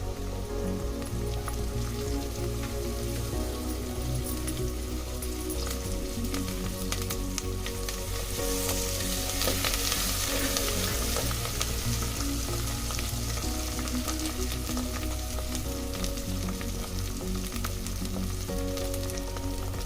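Ginger garlic paste and curry leaves spitting and frying in hot oil, a steady dense sizzle that swells slightly midway, close by and continuous throughout with no talking.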